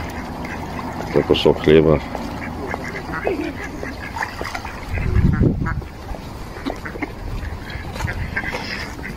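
Mallard ducks at a pond squabble over bread, with bursts of loud, close quacking and honking, including a dense flurry near the middle, while a person talks over the commotion.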